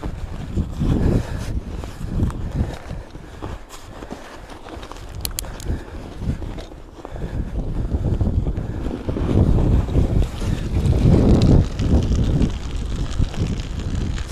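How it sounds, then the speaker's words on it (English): Strong gusting wind buffets the microphone during an outdoor ride on a Trek bike fitted with Schwalbe ice tires, loud rumbling bursts rising and falling throughout with no speech. "So windy."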